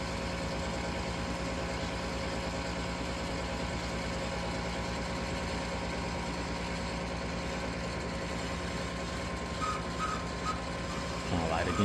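A failing HVAC furnace inducer motor runs with a steady, droning hum and a constant mechanical whine, close by and unbroken, rising slightly at the very end.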